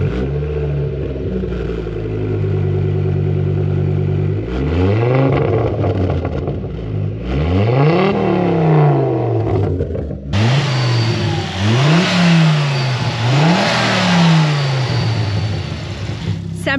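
A Ford Focus RS mk2 five-cylinder engine cranks and settles into a rough idle, then gets revved repeatedly in sharp rising-and-falling blips, loud and close, with brief talk near the car.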